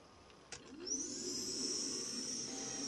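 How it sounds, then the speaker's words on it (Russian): A Zepter LMG-310 cordless car vacuum cleaner switches on after a click, its motor spinning up into a steady high-pitched whine that holds close and constant to the end. "Аккумуляторный автомобильный пылесос Цептор. Вот, рабочий полностью."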